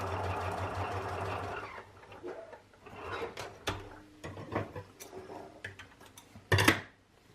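A sewing machine stitches a dart in fabric, its rapid mechanical whirr running steadily for about two seconds, then giving way to scattered clicks, handling noises and short bursts of stitching nearby.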